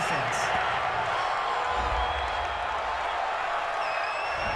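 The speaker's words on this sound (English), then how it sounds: "this crowd does not like that call" A stadium crowd at an NFL game between the Los Angeles Chargers and Denver Broncos reacts to a roughing-the-passer penalty, a broad, steady roar of booing and shouting that fills the space, with a commentator talking over it.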